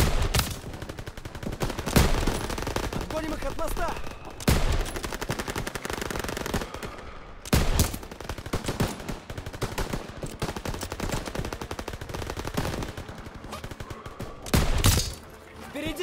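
Sustained machine-gun fire in the video game Call of Duty: WWII rattles almost continuously with loud bursts and impacts, while voices shout commands over the battle.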